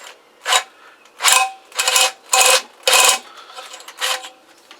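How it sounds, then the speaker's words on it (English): Power drill boring out a part on a Kawasaki GPZ500S motorcycle, about six short grinding bursts of roughly half a second each, close and loud, with brief quiet pauses between them. "we'll have another go at drilling this out"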